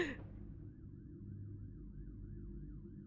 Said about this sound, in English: the sirens continued to wail, emergency vehicles rushing through the streets endlessly